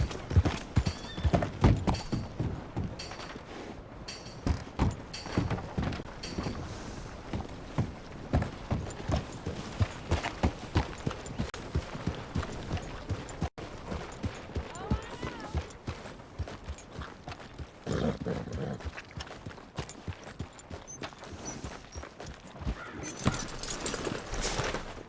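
Horse hooves clip-clop steadily in Red Dead Redemption 2, a close, rhythmic trotting beat that runs continuously with brief pauses, with faint ambient game sounds underneath.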